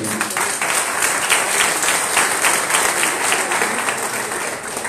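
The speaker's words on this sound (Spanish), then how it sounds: "Les damos un aplauso con inmenso cariño." Loud, dense applause from an audience at a community meeting in Armenia, Colombia, sustained and even throughout, close and filling the room with no speech over it.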